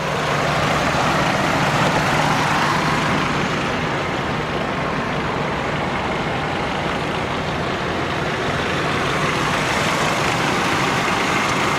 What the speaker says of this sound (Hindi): ये गाड़ी स्टार्ट है और आप आवाज़ सुने तो